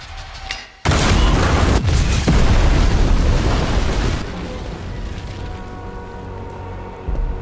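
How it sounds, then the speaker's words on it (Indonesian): An explosive device detonates in an action film scene: a sudden loud boom followed by a long rumbling, crackling roar of debris that slowly fades over several seconds. "sang ayah mengaktifkan alat peledak dan membawa Eve keluar dari rumah"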